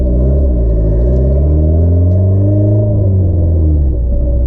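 Deep, booming exhaust rumble from a turbocharged Honda Civic with a custom-built exhaust, loud and close, with a steady idle that swells and dips slightly in pitch, no voices.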